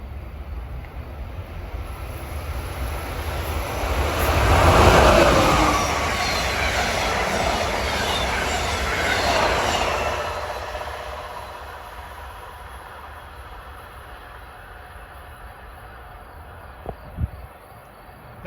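Amtrak Silver Star passenger train with coaches, Viewliner diner, sleepers and baggage car passing, a loud roar swelling to a peak and then fading away, with rail clatter and faint wheel squeal.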